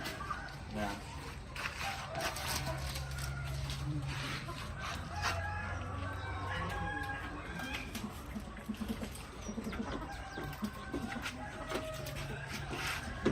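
Chickens clucking and a rooster crowing at a Thai poultry yard, a fairly close, busy flock sound running throughout, with someone talking over it.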